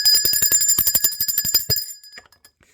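A bright bell rings rapidly for nearly two seconds, a fast trill of metallic strikes, then stops and leaves a fading ring.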